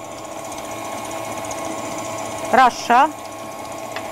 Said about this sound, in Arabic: حطيت البياض هنا لوحده خالص، وهنبتدي نخفق لغايه ما يبقى عندنا قوام كده كريمي وابيض